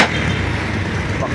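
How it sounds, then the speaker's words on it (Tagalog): A Bajaj NS200 motorcycle engine, fitted with a new full throttle body, backfires with a sharp crack at the start, then runs on as a steady, loud, rough engine rumble throughout. "Backfire siya."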